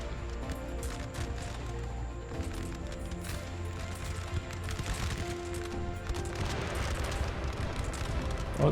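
Napoleon Total War battle at Heilsberg 1807, a howitzer shell striking a hut amid rumbling booms, distant musket crackle and ongoing battlefield din, dense and continuous with no speech.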